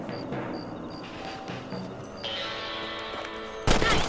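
Rifle shots in the Red Dead Redemption video game, aimed at rabbits: a single loud, sharp report bursts in near the end over a steady bed of outdoor game ambience with faint tonal music.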